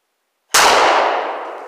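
A single loud gunshot striking a metal target, a sudden sharp crack that rings out into a long fading metallic clang after silence.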